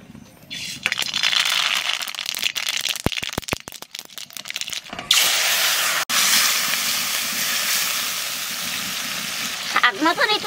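Tomatoes fry in fish oil with a steady hissing sizzle that fills the clip, broken by a few brief clattering bursts partway through and a short rise in spitting near the end.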